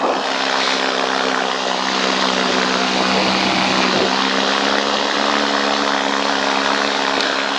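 A paramotor engine and propeller drone loudly and steadily in flight on a cold day, a constant buzzing hum close by with faint wind rush, no voices.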